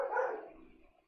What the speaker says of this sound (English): my dog is annoying shit outside